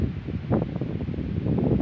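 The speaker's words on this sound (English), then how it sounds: "The fucking wind is kicking. Like 20 mile an hour winds right now." Strong gusty wind blows outdoors at around 20 mph, a rough, close rumble of wind buffeting the microphone with rustling, steady and unbroken.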